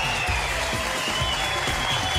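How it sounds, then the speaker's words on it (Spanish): Stand-up comedy show audience applauding as the comedian Diego Parra walks on: dense, steady clapping fills the whole stretch at an even level, with crowd noise mixed in. "Un aplauso para él."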